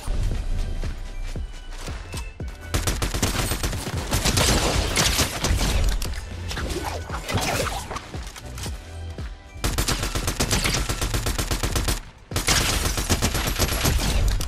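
Assault rifle fire in a Fortnite Zero Build match, dense and loud continuous automatic bursts with brief pauses, layered with game effects and footsteps.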